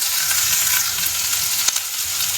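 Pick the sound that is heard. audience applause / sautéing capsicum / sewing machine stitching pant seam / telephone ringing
sautéing capsicum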